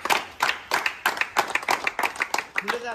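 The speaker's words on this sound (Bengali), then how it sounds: "জোড়া হাততালি হয়ে যায়" Hands clapping in a small group at a local cricket premier league prize presentation, a loose, quick run of close claps over about three seconds, with a voice breaking in at the end.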